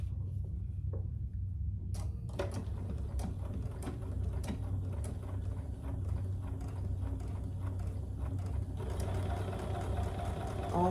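A sewing machine stitches around the folded 2-inch end binding of a tote bag, its steady mechanical whir and needle clatter running continuously up close, with brief bursts and handling knocks, no talk.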